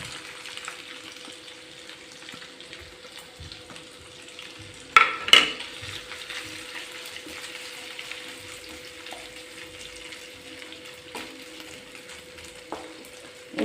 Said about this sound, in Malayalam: വെളുത്തുള്ളി കോരിയെടുത്തതിന് ശേഷം നമുക്കിനി ഇഞ്ചി വറുത്തെടുക്കാം.